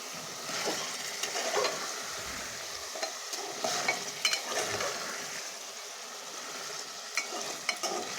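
Mutton sautéing in a pot that is covered now and then, with a steady close sizzle and repeated scraping stir strokes over about eight seconds.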